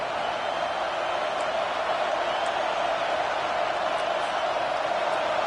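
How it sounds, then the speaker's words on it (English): A packed football stadium crowd roars on third down, a dense, loud, unbroken wall of noise that holds steady throughout. "Third down, and this crowd is tearing the lid off this place."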